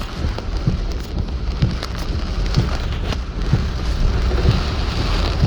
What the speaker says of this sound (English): Man, that's some heavy rain.